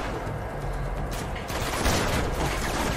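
Magnum pistol fire in the video game Uncharted 2, a dense burst of gunfire and mechanical clatter filling the moment, loud and continuous, with a stronger crack near the middle and no speech over it.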